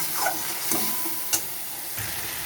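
Cut potatoes and pointed gourd go into a pan of tomato and asafoetida spice mix, giving a soft sizzle with a few scraping stirs and light clinks over a steady frying hiss.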